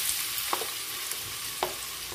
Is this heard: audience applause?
no